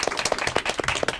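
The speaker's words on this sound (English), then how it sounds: "Big round of applause for yourselves." Applause after an elementary school derby match, a modest group clapping at a quick, uneven rhythm, with individual hand claps distinct and fairly close.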